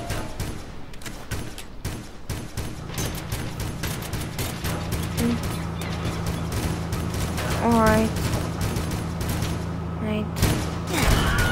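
Battleship guns fire repeatedly in a naval battle video game, a rapid stream of booming shots and mechanical clatter running nearly nonstop under voices talking over the action.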